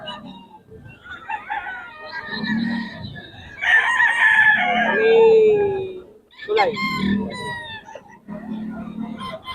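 Roosters in Bocaue crow loudly and close by, with two long crows in the middle and lower clucking between them.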